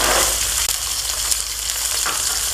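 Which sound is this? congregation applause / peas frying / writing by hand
peas frying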